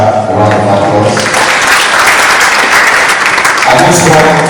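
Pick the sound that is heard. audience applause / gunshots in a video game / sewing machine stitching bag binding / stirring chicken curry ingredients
audience applause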